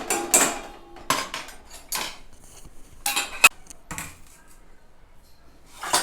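Utensils clank as Gujarati dry fruit kadhi, just boiled and topped with coriander-cumin powder and fresh coriander, is moved into another pot: about half a dozen sharp metal knocks and scrapes, close and separated by quiet gaps.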